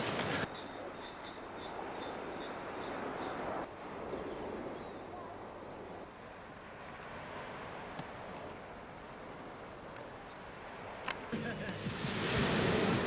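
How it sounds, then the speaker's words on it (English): Surf washing onto a pebble flint beach on the Jurassic Coast, a steady broadband wash with clicks of stones rolling, under wind and some faint talk. "if I turn the camera the other way, you'll see the sea"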